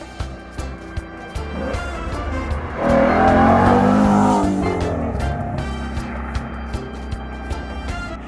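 Pickup truck fitted with factory Tremor tires driving a snowy forest road uphill, its engine rising to a loud surge midway with tires hissing and crunching, then easing back to a steady rumble.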